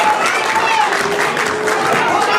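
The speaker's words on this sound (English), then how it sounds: "Crowd reaction tells me they want to see it as well" Indie wrestling crowd at a Green Mountain Wrestling match cheering and roaring steadily, with an announcer's commentary running over the top the whole time.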